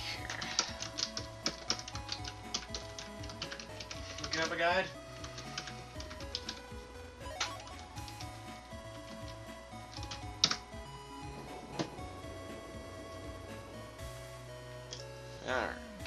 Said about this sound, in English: Don't mind the clickety clacks. My keyboard is very loud.